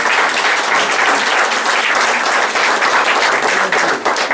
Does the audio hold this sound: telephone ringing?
no